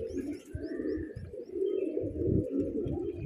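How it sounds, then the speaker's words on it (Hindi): A dubaaz pigeon among other pigeons gives repeated soft cooing pulses with a few faint chirps over a continuous low warble, close by and steady. "ये कबूतर, ये वाला दुबाज।"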